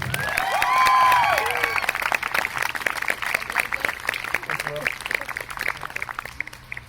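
An outdoor crowd at a Black Lives Matter teach-in in Grand Junction, Colorado breaks into applause, a steady patter of many hands that follows a voice at the start and thins toward the end.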